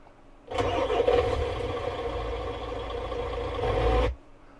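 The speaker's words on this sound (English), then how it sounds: "Let's try a tow truck, shall we?" A truck engine starts up, rumbles steadily for a few seconds with a low drone, revs slightly, then cuts off abruptly; close and fairly loud.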